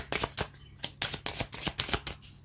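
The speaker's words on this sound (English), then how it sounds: "Maybe one more shuffle." Tarot cards being shuffled by hand in a quiet room: a quick run of crisp riffling flutters and soft slaps, close and fairly faint, with no talking.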